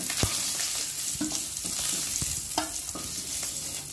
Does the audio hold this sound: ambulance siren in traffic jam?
no